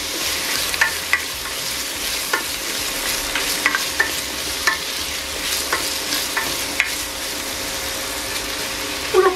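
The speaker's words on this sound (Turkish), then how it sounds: "biberimi de ilave ediyorum ve kavurmaya devam ediyorum bu şekilde" Diced potatoes and peppers sautéing in olive oil for a vegetable soup, a continuous sizzle with repeated scraping and stirring clicks from a utensil against the pan, close and fairly loud.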